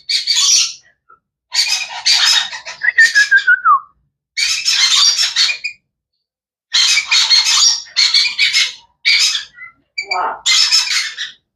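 A cockatoo and an Amazon parrot squawk in loud, harsh bursts separated by short silences, with a few whistled notes and a sliding call mixed in, close by.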